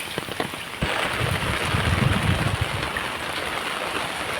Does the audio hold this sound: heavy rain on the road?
yes